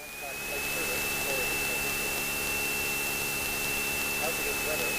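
A Cessna 172 engine runs up to power while the aircraft brakes hard into a pivot on the ground, a steady loud broadband roar with a high whine throughout, rising just after the start and holding.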